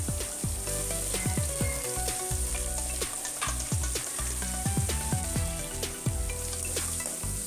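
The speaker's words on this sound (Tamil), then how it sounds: "சாப் பண்ணி அதையும் சேர்த்து நல்லா வதக்குங்க" Finely chopped onions sauté in hot oil for a Chettinad chutney, giving a close, steady sizzle broken by frequent spoon scrapes and clinks as they are stirred, with no talking.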